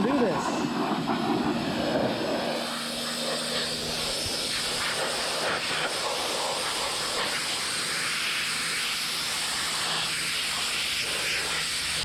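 Pressure washer spraying the upturned underside of a Foxbody Mustang under rot repair, a loud continuous hissing roar with a brief stronger burst at the start.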